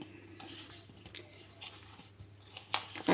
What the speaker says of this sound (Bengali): আস্তে আস্তে মাখাতে হবে যেন এঁচড়গুলো ভেঙে না যায়।